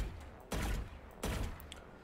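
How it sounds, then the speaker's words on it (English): Gunfire in a first-person shooter video game: two loud bursts of shots, each a tight pair of shots fired in quick succession, the second pair about 0.7 seconds after the first, with quiet between them. "you're just going to shoot two bullets and move, and then do it again"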